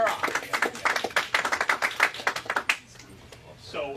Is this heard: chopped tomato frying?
no